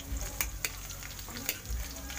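Garlic and ginger frying in oil for chicken, a quiet steady sizzle punctuated by a few sharp pops and spatters, heard close with no talking.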